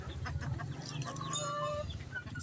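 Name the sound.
shamo chicken chicks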